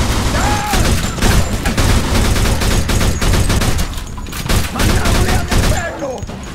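Rapid overlapping gunfire from a Mafia 2 video game shootout, dense loud volleys with booming bursts running continuously throughout, with brief shouted voices mixed in under the shots.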